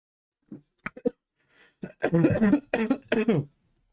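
A couple of short coughs, followed by a person speaking.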